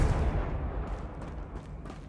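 An explosive spell blast in Hogwarts Legacy, a low, rumbling boom already decaying, fairly quiet and dull, trailing off over about two seconds.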